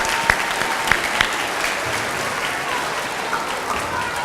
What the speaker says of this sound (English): How about another round of applause for 6th grade Ridge?